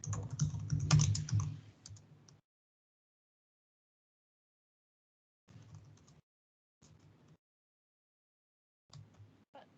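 Typing an essay on a computer keyboard: quiet, close clicking keystrokes in a steady burst, then short separate flurries with pauses of silence between them.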